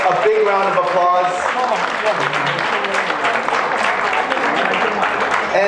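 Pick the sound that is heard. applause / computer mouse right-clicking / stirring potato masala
applause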